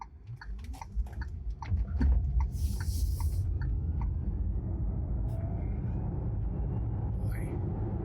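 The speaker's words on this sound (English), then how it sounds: "So the acceleration in this particular VinFast feels like slower than chill mode in a long-range Tesla" A VinFast VF8 electric SUV accelerating, heard from the cabin as a steady low road-and-motor rumble that swells early and then holds level, with faint clicks and a brief airy hiss on top.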